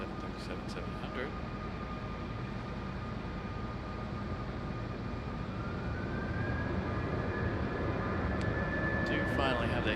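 A Southwest Boeing 737-700 arriving at Raleigh-Durham from Baltimore gives a continuous broad engine roar with a steady tone that rises in pitch toward the end, loud and unbroken.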